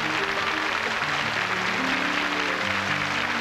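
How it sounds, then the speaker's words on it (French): Sustained audience applause in a television studio, dense and steady throughout, with a low murmur of music or voices underneath. "On applaudit très fort."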